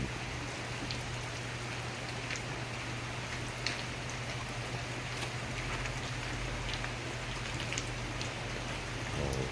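Steady rain falls in a continuous hiss with scattered droplet patters, and a low engine-like hum underneath throughout.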